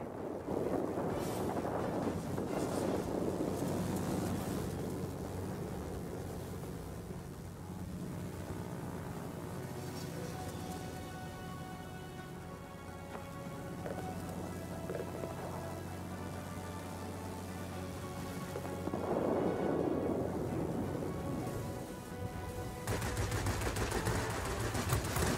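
A heavy storm roars in World of Warplanes around a Bf 109 E fighter, with steady wind and rain noise over a low engine drone, swelling and easing in loudness and with no distinct thunderclap.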